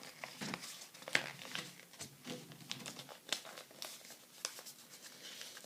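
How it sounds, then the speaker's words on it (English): Paper crinkling and creasing close by as a sheet is folded into triangles for a craft, soft rustles and sharp crackles coming in short bursts with no voices. "Then you fold it in half, but backwards."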